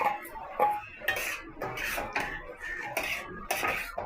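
Marinated mutton being stirred in a pan for Bengali kosha mutton, with repeated close scraping and clanking of a metal spatula against the pan in an uneven rhythm and no talking.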